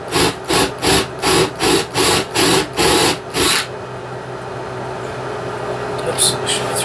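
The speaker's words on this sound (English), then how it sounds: "I'm pre-drilling a little bit so I can countersink the screws in a little" A drill whirs in about nine short, evenly spaced bursts as it pre-drills countersink holes for screws in wood, then stops, leaving faint background noise.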